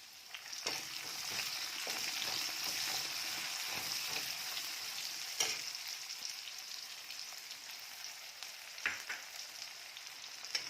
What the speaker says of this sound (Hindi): इसके साथ ही हम इसमें एक कटी हुई प्याज डाल देते हैं।